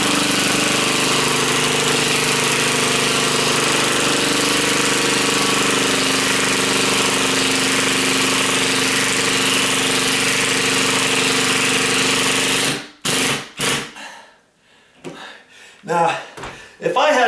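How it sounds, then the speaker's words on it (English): A ratcheting drill drives screws into a ceiling fan pancake box, giving a loud, continuous buzzing drone that stops abruptly, followed by a few short clicks and knocks. "So for that reason alone, I like the ratcheted drill."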